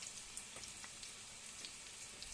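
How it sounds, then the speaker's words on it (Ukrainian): Soft, steady sizzling with faint scattered crackles and pops as cutlets fry quietly in a pan nearby. "Смажу далі котлети."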